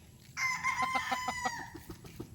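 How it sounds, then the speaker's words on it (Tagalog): Rooster crowing close by at a farm, one loud drawn-out cock-a-doodle-doo that breaks into a short series of clucking pulses before fading, with no talk over it. "Ay, rooster pala. Rooster."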